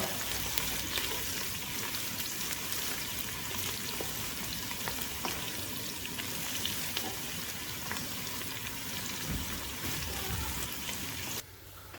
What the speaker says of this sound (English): Now we will saute it until onion gets light brown.